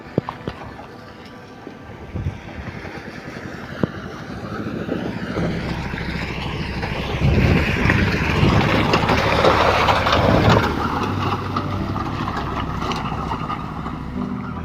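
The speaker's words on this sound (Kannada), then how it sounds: "ಅಲ್ಲಿ ಎಷ್ಟು ತಿಣ್ಕಾಡುತ್ತೆ ಗಾಡಿ, ಒದ್ದಾಡುತ್ತೆ ಗಾಡಿ" A government bus labours along a badly damaged road. A loud, rough engine roar grows heavier partway through and strains continuously, with occasional knocks and rattles, and no talking.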